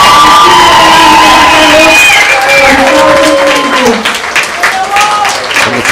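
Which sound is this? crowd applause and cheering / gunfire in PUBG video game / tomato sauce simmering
crowd applause and cheering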